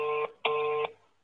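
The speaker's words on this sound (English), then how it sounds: "Yes, he's ringing. Just listen. It's ringing." Telephone ringing on an outgoing call, two clear electronic ring tones, the second longer than the first, with a short gap between them and quiet after.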